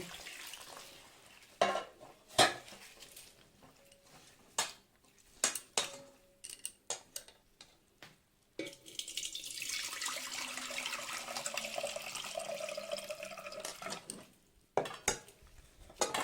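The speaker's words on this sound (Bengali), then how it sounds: "এই জল দিয়ে আমি চিড়েটাকে খুব ভালোভাবে আগে ধুয়ে নেব।" Flattened rice (chira) washed by hand in lukewarm water in a bowl, with scattered clinks and splashes early, then a sustained run of water pouring and swishing, ending with more sharp clatters; no speech.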